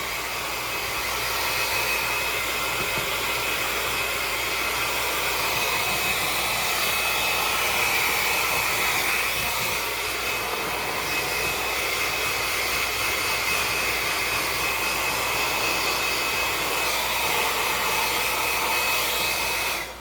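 An electric dryer blows without a break for about twenty seconds while a cat is dried after a bath. It makes a loud, close, even whooshing roar with a faint high whine and no talk.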